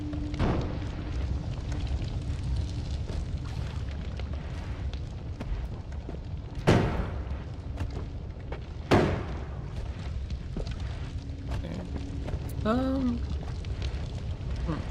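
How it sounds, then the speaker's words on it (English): Explosions and burning fire in the video game Noita: a continuous crackling roar is punctuated by two sharp, loud blasts a couple of seconds apart, with a person talking over it. "Although this fire will ravage through."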